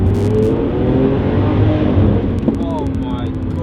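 A loud Lamborghini Aventador SV engine roars and pulls hard, a steady powerful drone with high whine, heard from inside the car.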